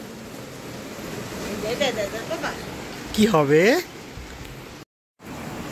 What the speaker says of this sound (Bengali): বারবার বৃষ্টির যা আওয়াজ হচ্ছে, এর ঘুম ভেঙে গেছে,